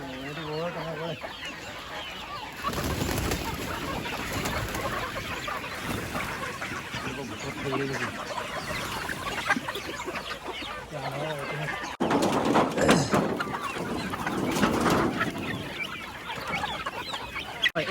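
Chickens on a poultry farm keeping Kadaknath, Rhode Island Red and local birds cluck and call continuously nearby, with a rooster-like call standing out, while people talk over the flock.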